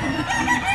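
A gamefowl rooster at a poultry seller in Grotto, Bulacan crows in a brief, loud, close burst, cut off partway through.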